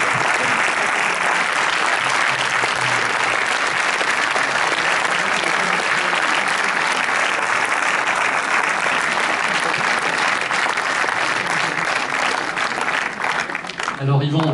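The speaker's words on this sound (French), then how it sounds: "On peut les applaudir." A theatre audience in a hall in Aix-en-Provence applauds loudly and steadily for the whole stretch, a dense, even wash of clapping that only wavers at the very end.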